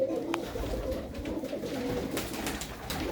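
Pigeons coo steadily and close by inside a loft holding blue-headed pigeons and native desi birds, with soft overlapping calls over a low rumble of wings and movement.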